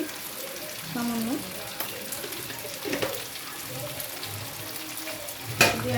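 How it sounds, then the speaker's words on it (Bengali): Chicken frying in a pan with spices and a pinch of sugar, stirred with steady scraping strokes over a continuous close sizzle, ending in a sharper utensil clatter. "দিয়ে আবার একটু নেড়ে নিচ্ছি"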